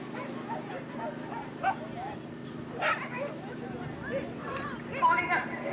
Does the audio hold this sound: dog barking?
yes